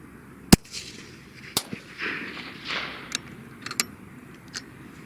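Sharp, distant-sounding cracks of a rifle firing Nosler 130-grain RDF bullets outdoors, several separate reports spaced irregularly over a quiet background.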